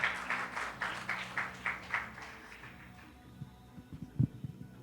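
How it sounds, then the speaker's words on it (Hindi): Audience applause at a women's sports event welcoming Jamnagar MLA Rivaba Jadeja: a burst of clapping for about two and a half seconds that fades out, followed by faint scattered sounds. "हम उनका तालियों के साथ हार्दिक स्वागत करते हैं।"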